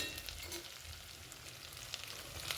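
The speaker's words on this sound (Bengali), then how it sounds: "পেঁয়াজ কুচিটাকে গোল্ডেন ব্রাউন করে ভেজে নেব" Chopped onions fry in a pan toward golden brown with a pinch of sugar, giving a soft, steady sizzle and crackle that stays faint and even throughout, with no talking.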